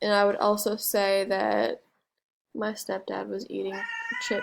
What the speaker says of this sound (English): Oh, and that is my cat.